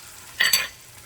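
Onions and porterhouse steaks cook in a pan over high heat, heard as a brief close sizzle and scrape of stirring lasting about a third of a second, with no voices.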